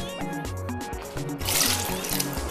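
Water poured into a pot of goat meat for yam pepper soup, a steady splashing fill that swells louder midway, heard close up with no talking.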